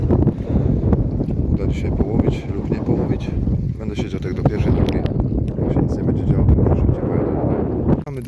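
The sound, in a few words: wind blowing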